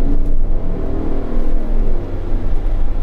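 A large, heavy V6 turbo car accelerating hard with the pedal pressed deep, its engine giving a loud, steady low rumble and rising roar for about three seconds with no talk over it.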